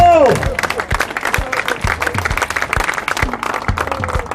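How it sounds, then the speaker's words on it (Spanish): Crowd applause at the Santoña rowing regatta (Bandera de Santoña, 2016 ARC2 league heat) as boats cross the finish: dense, steady clapping from a large outdoor crowd, fairly loud and continuous, with periodic low thumps running underneath. "fuerte el aplauso"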